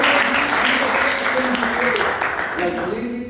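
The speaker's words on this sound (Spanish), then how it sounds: "Vamos a dar un aplauso al Señor." A church congregation at a Spanish-language Sunday service breaks into sustained applause, a dense wash of clapping that fades slightly toward the end, with voices mixed in.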